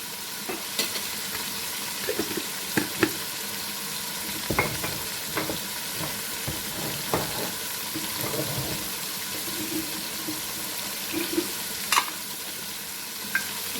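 Red chili powder and homemade garam masala frying and being stirred in a pan for a beef paye curry, with soft steady sizzling, scraping stirs and occasional clinks, close and alone.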